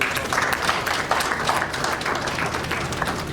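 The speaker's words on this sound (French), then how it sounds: "Est-ce qu'on peut l'applaudir s'il vous plaît?" Congress delegates at the fifth GEMENU congress applaud a guest of honour, a broad, even wash of clapping from a sizable crowd in a hall, continuous and moderately loud for several seconds.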